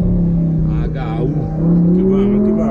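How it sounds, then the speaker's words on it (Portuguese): An Audi R8 accelerates on a city road in Londrina, Brazil, its engine note climbing steadily in pitch as it builds speed, loud and close from inside the car. "Só desse jeito que eu tô acelerando aqui"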